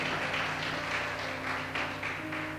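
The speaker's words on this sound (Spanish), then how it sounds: "Denle un aplauso fuerte a Cristo" Church congregation applauding after a preacher's call, a steady wash of many hands clapping together over a sustained organ-like tone, moderately loud and continuous.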